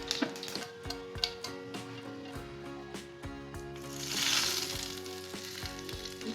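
Hot tempering poured into mango chutney crackles and sizzles, with sharp pops and clicks of spices up front, then a louder hissing surge as the oil hits the chutney before settling into a softer sizzle.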